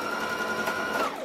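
A sewing machine stitches a seam on a Simplicity 1801 garment, giving a brief, faint, steady mechanical whir with a light rapid clatter.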